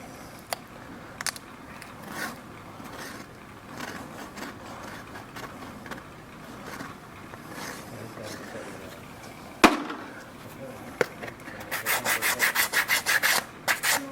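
A farrier scuffs the bonding surfaces of an aluminum horseshoe. Faint, scattered rubbing and scraping runs at first, then turns into a quick, rhythmic run of louder rasping strokes near the end.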